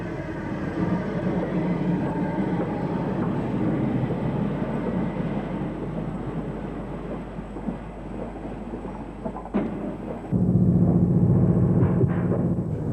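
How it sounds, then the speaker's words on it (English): An LMS Class 8F 2-8-0 steam locomotive hauls a down freight train on a British main line, a continuous heavy rumble of wagons and running gear, loud and steady, shifting to a different tone near the end. "This is 280 Class 8F number 48339 on a down freight, followed by another member of the same class"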